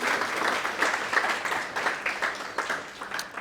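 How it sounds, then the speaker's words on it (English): A room of people applauds at a healthcare design meetup, with dense, even clapping that holds at a steady level throughout and trails off slightly near the end. "Round of applause for Charley."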